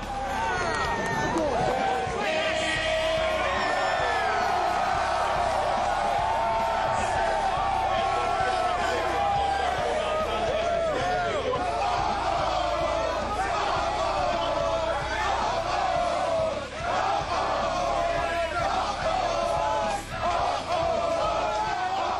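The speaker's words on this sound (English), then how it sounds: "the largest crowd in A&M history celebrated into the night as the Aggies upset UT 74-63" Huge crowd celebrating a Texas A&M Aggies basketball upset win over UT, a loud, sustained roar of cheering and shouting voices filling the arena with no letup throughout.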